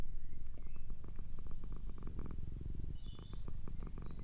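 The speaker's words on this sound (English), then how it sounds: "He did all this without saying a word, only purring." A cat purrs steadily up close in a quiet indoor setting, a continuous low rumbling with a regular pulsing rhythm and no voices.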